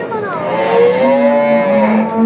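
A cow moos in one long, loud, drawn-out low call that fills the whole moment, close by with a steady hum of background noise.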